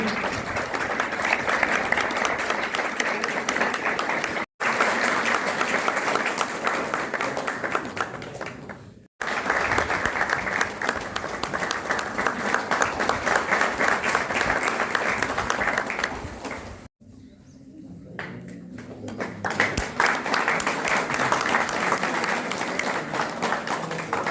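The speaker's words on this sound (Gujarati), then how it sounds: "જોરદાર તાળીઓથી વધાવીએ" Loud, sustained audience applause at a district-level school innovation festival in Khambhalia, Devbhumi Dwarka, continuing in long bursts broken by a few sharp gaps and one brief lull near the end.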